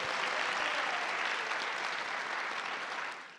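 Dense, steady applause from an audience at a lecture event, filling the whole stretch evenly at close range with no voices over it and tapering only at the very end.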